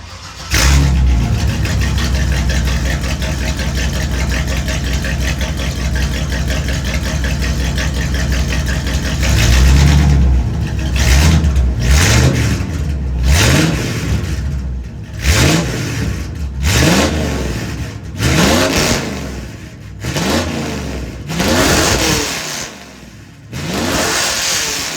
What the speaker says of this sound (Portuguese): o som desse carro é maravilhoso. É um som que realmente é indiscutível, é bonito e é de V8.